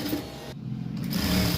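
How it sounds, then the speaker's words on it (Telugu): A sewing machine stitching through folded cloth, a steady close mechanical whir running for under two seconds with no talk. "ఫోల్డ్ చేసేసుకొని ఇలా కుట్టాలి."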